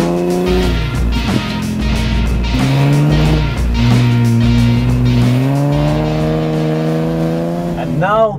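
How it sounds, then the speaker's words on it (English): A 2019 Nissan Patrol Gazelle X SUV engine revs and pulls hard through the gears, loud and close, with rising tones and a sharp upward sweep near the end; exhaust crackle isn't clearly distinct. "the highlight is the crackling sound that exhaust system makes while"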